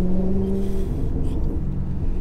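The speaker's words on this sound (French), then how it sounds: "C'est tellement noble comme son moteur." Car engine roaring in Gran Turismo Sport, a steady low, dense drone held throughout with slight changes in tone, loud and continuous.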